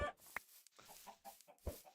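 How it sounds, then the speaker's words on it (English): Chickens in the Minecraft video game give a few short, close clucks in an uneven rhythm, with no talking. "if I have to kill all of these chickens with my bare hands"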